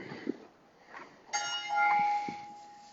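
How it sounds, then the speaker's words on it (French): A church bell rings nearby during roof cleaning on canal tiles: soft knocks give way to a clear, sustained metallic ring that lingers and slowly fades, moderately loud against quiet surroundings. "J'ai la cloche qui sonne à côté"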